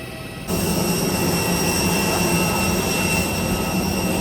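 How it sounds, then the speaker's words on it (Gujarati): Jet engines of an IndiGo airliner just after landing in Lucknow at night, a steady loud broadband roar with a sustained tonal whine, heard from inside the cabin with no talk. "અમે દિલ્હીથી ઇન્ડિગો ફ્લાઇટની અંદરથી લખનઉ સિટીની અંદર અમે અત્યારે આગમન કર્યું છે"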